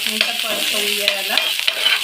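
Chopped green chili, ginger and garlic sautéed in a pan, with a loud, close sizzle and several sharp scraping stirs of a spatula against the pan in quick succession, without speech.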